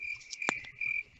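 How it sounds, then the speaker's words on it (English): A crickets-chirping sound effect plays as a steady high trill that drops briefly and resumes, with a single sharp knock midway, faint and quiet with no talk. "I was going to hit him with the crickets chirping."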